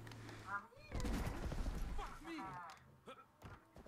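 Gunfire in the video game Far Cry 3, a dense burst of shots packed together for about a second, with excited voices talking and shouting over and around it.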